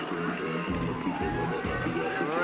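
Crowd at a paraclimbing World Cup final in Villars, a dense roar of cheering and shouting with rhythmic swells, heard beneath ongoing commentary.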